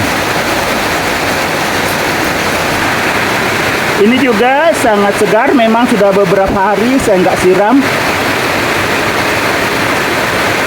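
Heavy rain falling in front of a house, a dense, steady roar of downpour throughout, with someone speaking over it for a few seconds in the middle.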